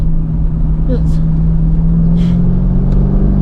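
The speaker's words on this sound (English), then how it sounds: "you can hear the engine instead of hear the exhaust" A C5 Corvette engine drones steadily from inside the cabin, a low rumbling hum with road noise, loud and continuous throughout.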